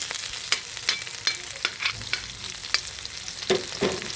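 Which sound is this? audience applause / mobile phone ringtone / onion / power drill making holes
onion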